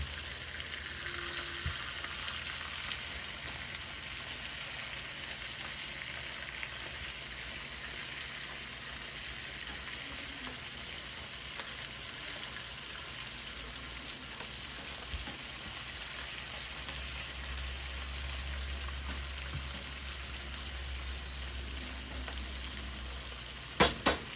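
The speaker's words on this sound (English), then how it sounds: "Look at this one, just sizzling this one." Food frying in a pan makes a soft, steady sizzle with faint hiss throughout, fairly quiet and uninterrupted, ending with a couple of light utensil clinks.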